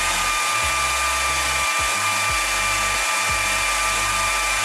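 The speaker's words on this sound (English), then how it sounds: "I'll go ahead and spin it over, see if we just got oil pressure" Engine spun over by the starter with the ignition off to build oil pressure: a steady high whir with rhythmic low pulses from the cranking, close and continuous.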